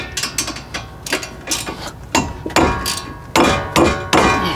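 A bolt is tightened during a car repair, with a quick series of close metallic ratchet clicks and clanks in an irregular rhythm, loud and with no talking.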